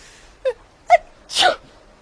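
A sneeze heard as two short sharp inhaled catches followed by a louder, breathy burst, close and clear with no other sound around it.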